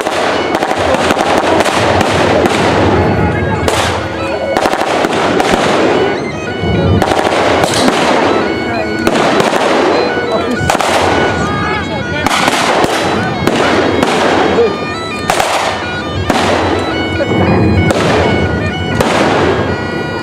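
Battle reenactment gunfire at the Severn Valley Railway: loud rapid cracks and volleys of blank shots crackling continuously like firecrackers, with people talking throughout.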